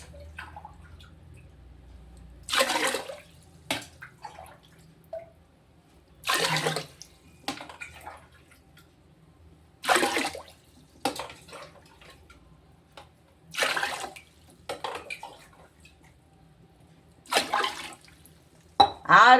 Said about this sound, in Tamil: இப்போ தண்ணி ஊற்றிக்கிறோம்.